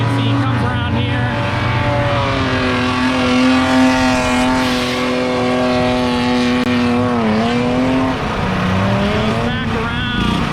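A BEAMS-engined Toyota AE86 drift car circles the Tail the Dragon course at Myrtle Beach, its engine droning loud and steady with pitch sweeping as it revs, while someone talks over it.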